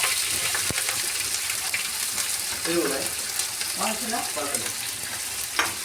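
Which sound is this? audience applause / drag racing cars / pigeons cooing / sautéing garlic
sautéing garlic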